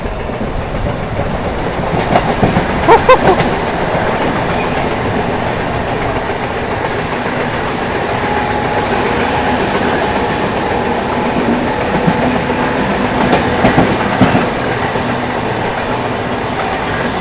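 The 12329 West Bengal Sampark Kranti Express rushes past steadily and loudly at high speed, wheels clattering rhythmically on the rails with a continuous rumbling roar.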